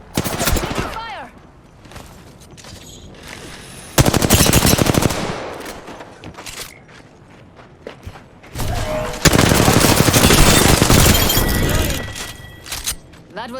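Rapid automatic gunfire from the video game Apex Legends comes in loud, dense bursts separated by quieter gaps, with game effects and voices in the background.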